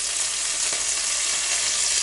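Pelmeni dumplings fry in a hot pan with a loud, steady sizzle and crackle that holds up for the whole stretch, close and uninterrupted, with no voices over it.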